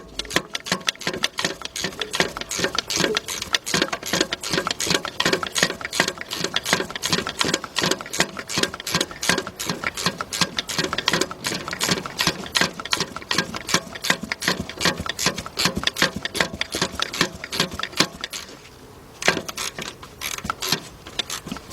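A long bolt being ratcheted out of the lower intake manifold of a 2004 Chevy Monte Carlo with a 3.4 engine, with rapid, steady ratchet clicking nearby for about nineteen seconds before a brief pause and a few more clicks.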